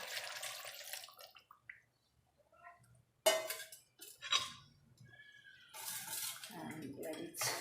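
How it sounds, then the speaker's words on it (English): Water splashes and pours into a cooking pot of duck with ash gourd, coming in short bursts with clinks of the pot and utensils, close and fairly quiet, separated by brief silences. "So I'll be adding more water here."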